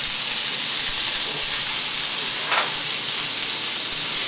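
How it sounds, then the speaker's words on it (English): Vegetables sauté over medium-high heat in a soup pot for tortilla soup, giving a steady, broad sizzling hiss that stays even and close throughout, with one brief brighter crackle midway. "The heat should be medium-high at this point while we are sauteing our vegetables"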